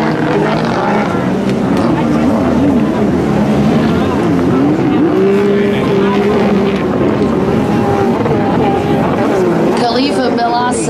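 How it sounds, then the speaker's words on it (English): Loud, continuous engine roar of a Grand Prix runabout racing motorboat close by, its pitch rising and falling as it speeds, with wind buffeting the microphone. "Khalifa Milasa in fourth on the number 3 boat."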